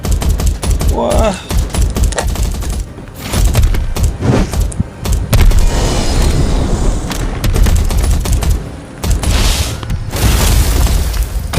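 Missiles explode in the sci-fi survival game Earth Revival, loud booming blasts layered with rapid gunfire in a dense, nearly continuous barrage, with excited voices talking over the action.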